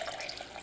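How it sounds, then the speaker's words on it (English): Hot water from boiled potatoes being poured off, a short splashing trickle like a tap running, close and fairly soft. "Now I'm going to pour off most of the water"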